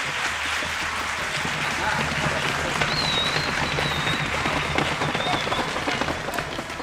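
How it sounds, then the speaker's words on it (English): Audience applause at a spring elementary school instrumental concert, a steady wash of clapping from a sizable crowd lasting throughout, with a faint voice or tone drifting underneath. "Can I also have a round of applause for the middle school students who came to help today?"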